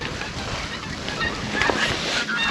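Distant geese honk faintly over strong wind and rushing water noise outdoors in cold weather with snow falling.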